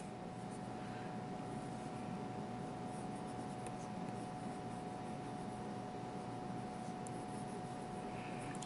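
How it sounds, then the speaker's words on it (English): A fountain pen fitted with a new nib scratches softly across paper. The strokes are faint and continuous and sound close, and a steady low hum sits under them with no speech. "It really writes well."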